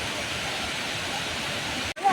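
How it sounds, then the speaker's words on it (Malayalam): Lakkam Waterfalls roars as a steady, loud wash of rushing water that fills the scene up close, broken by a brief dropout near the end. "ഇതാട്ടോ നമ്മുടെ വെള്ളച്ചാട്ടം."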